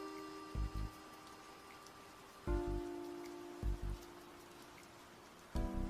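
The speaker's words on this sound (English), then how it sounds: "Let me also just make it stop raining for the video." Rain falling steadily as a soft, faint hiss behind a few short, louder bursts of noise.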